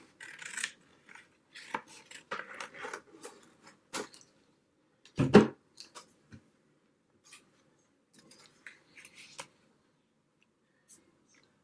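Scissors snip in short, separate cuts, trimming a small piece of fabric for a slow-stitch journal, close and quiet, with a slightly louder cluster of snips in the middle and sparse faint clicks after.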